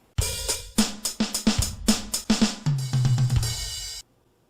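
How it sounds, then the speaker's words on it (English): The first preset kit on a portable electronic drum practice pad plays quick close drum and cymbal hits in a lively pattern, ending in a sustained roll and a crash before stopping abruptly. "This is kit number 1."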